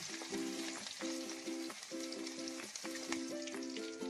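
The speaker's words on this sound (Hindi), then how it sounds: "पैन में हम ऑयल गरम कर लेंगे, इसमें चॉप जिंजर गार्लिक डालेंगे। अब इसमें हम ग्रीन चिली डालेंगे। इसको हम 1 मिनट के लिए सौटे कर लेंगे।" Chopped ginger, garlic and green chili sauté in hot oil, a steady bright sizzle running throughout, with faint scrapes and tonal clinks recurring under it at a close, even level.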